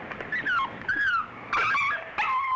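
A dog whimpers and whines in a series of high, wavering cries, rising and falling in pitch, close and clear with short pauses between them.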